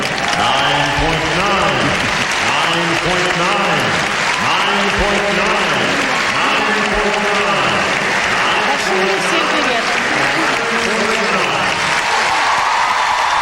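Arena crowd at the 1996 Gold Championships figure skating event applauding a performance, steady dense loud clapping throughout with a commentator's voice talking over it.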